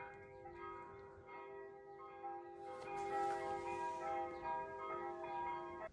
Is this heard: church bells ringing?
yes